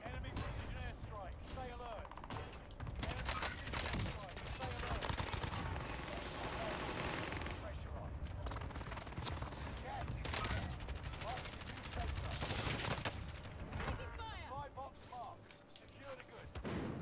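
Kilo 141 rifle gunfire in Call of Duty Warzone crackles in steady bursts through a busy game mix, with voices talking over the shooting throughout.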